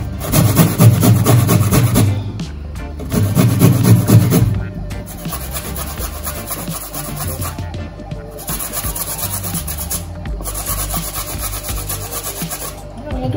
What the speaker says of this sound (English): I'm gonna grate the ginger.